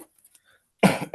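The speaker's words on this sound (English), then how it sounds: "I will be coughing from time to time throughout this meeting." A few harsh coughs from a committee member at a public meeting who is recovering from a cold, close and loud after a quiet stretch, with a brief second burst at the end.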